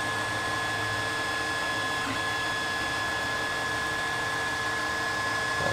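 A 3D printer runs steadily through a print, a constant whirring hum with stepper-motor whine and fan noise, close and unbroken throughout.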